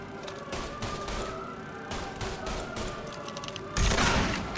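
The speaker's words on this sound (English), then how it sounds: "Who's shooting?" Gunfire in the video game Mafia 3: scattered shots and bursts crackle at moderate loudness across the scene, with a heavier blast near the end and no talking.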